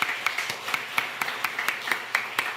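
A church congregation claps to welcome newcomers during Sunday worship, with a handful of sparse, separate hand claps sounding at a moderate distance in a loose, irregular rhythm over a quiet room.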